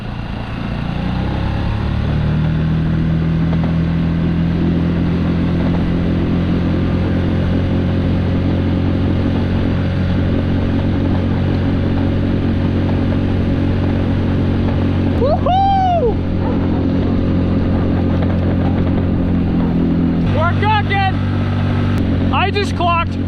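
Small fishing boat outboard motor running steadily at full throttle, loud and close throughout, with voices and whooping breaking in near the end.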